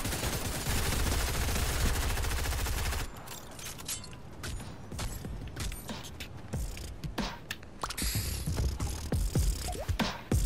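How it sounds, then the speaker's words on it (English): Rapid gunfire from the video game Fortnite, with dense bursts of shots for the first few seconds, then scattered, sharper single shots and clatter continuing at a lower level. "Oh no, someone's shooting at me."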